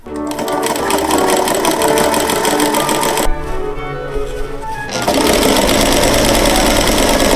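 A sewing machine fitted with a ruffler foot gathers tulle in a loud, steady mechanical whir with rapid rhythmic clatter, dipping briefly partway through before running again at full speed.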